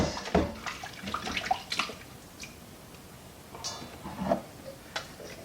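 Food is rinsed under a running kitchen tap, with faint intermittent splashes and patters of water rather than a continuous stream, fairly quiet and without talk.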